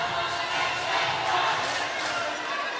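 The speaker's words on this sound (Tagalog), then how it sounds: "a noisy crowd joining the fray" A noisy crowd fills an indoor arena during a semifinal volleyball match at Paco Arena, Manila, with a steady roar of shouting and cheering and no pause.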